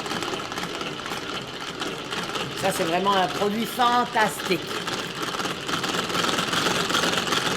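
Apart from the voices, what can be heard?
manual non-electric Tupperware whisk beating egg whites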